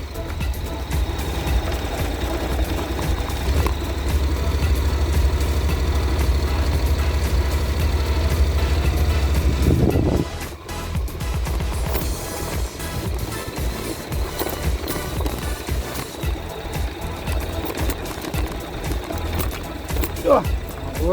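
A Honda NC700 DCT motorcycle rides on gravel, its engine droning close and then dropping off sharply halfway through, followed by rougher road and wind noise as it moves on.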